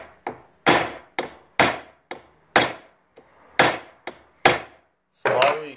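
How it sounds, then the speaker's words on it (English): A platinum ingot is hammered into a square bar: about a dozen sharp, ringing metal blows land close by at an uneven pace, each decaying quickly, with a longer scraping strike at the end. "So what we're going to do now is just hammer it, try and get a square bar out of it so we can take it to the rollers."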